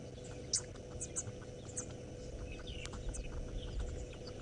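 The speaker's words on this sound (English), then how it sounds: "Here are the oxpeckers." Oxpeckers calling during a sunrise safari drive: scattered short, high chirps and squeaky calls, several in quick succession, fairly faint over a steady low vehicle or wind rumble.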